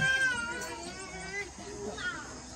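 A cat meows close by in a series of drawn-out, wavering meows that run almost continuously.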